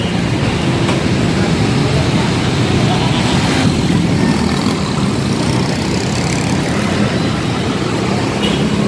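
Street traffic on a busy road heading toward Marilao, with engines idling and rumbling steadily near and loud throughout, a dense continuous drone with no clear pauses.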